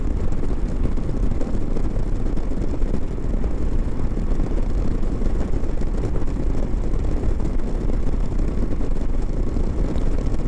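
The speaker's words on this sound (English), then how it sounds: "there's a bit of buffeting on the top there, but not as bad as on the Honda" Steady roaring wind buffeting against a motorcycle helmet while riding a Moto Guzzi V85TT, a loud, constant broadband rush with no break for the whole stretch.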